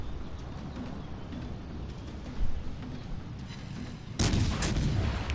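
Naval gunfire from the rear turrets of the battleship USS California in World of Warships: a low rumbling lead-in, then a sudden loud heavy salvo booming near and sustained at the end.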